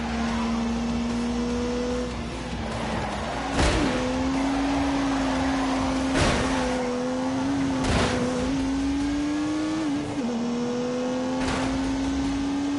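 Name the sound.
turbocharged 3-litre straight-six car engine revving in a PS4 racing game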